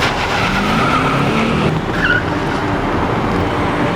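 Tires skid and squeal as a car is driven at a person on a road in a Crime Patrol dramatization, a loud, continuous engine-and-tire roar with a sharp screech rising midway.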